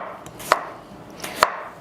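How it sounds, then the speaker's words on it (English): A knife chops red or yellow potatoes into slices on a cutting board, two sharp close thuds about a second apart, with no talk. "So we're just chopping these into slices."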